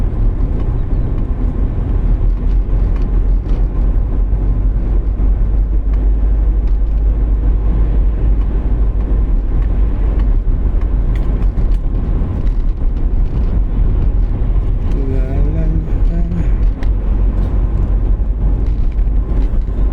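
A large vehicle's engine rumbles steadily and loudly from the cab on an early-morning drive, a deep continuous drone with road noise throughout and a brief tonal whine near the end.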